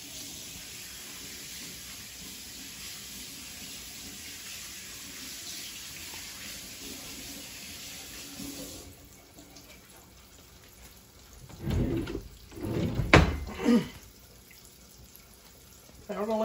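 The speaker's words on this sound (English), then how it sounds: "I'm gonna wash the credit off my hands." Tap water running steadily into a sink, then hands being rinsed with louder splashing and rubbing near the end, all close by with no talking, during outdoor frog cleaning and cooking.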